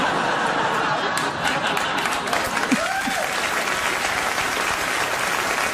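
A late-night talk show studio audience gives a sustained round of applause, dense clapping that stays even throughout, with scattered snickers and chuckles mixed in.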